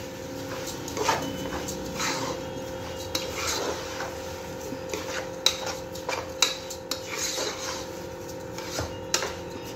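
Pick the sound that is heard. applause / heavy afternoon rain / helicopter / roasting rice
roasting rice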